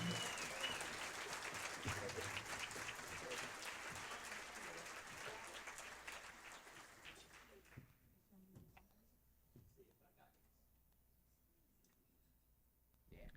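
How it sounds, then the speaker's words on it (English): Audience applause for performer Jackson McBrayer at a care conference opening, a dense burst of clapping that holds for several seconds then cuts off abruptly, leaving faint room noise and a few stray sounds. "All right, keep that applause up for Jackson McBrayer."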